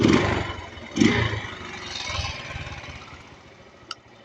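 A Honda Rouser 135 motorcycle engine, with a faulty starter motor, is kick-started and runs with an uneven, rumbling idle up close, with a few clattering knocks and surges and no talking.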